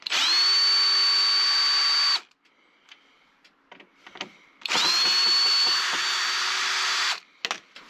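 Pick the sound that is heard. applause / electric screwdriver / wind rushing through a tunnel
electric screwdriver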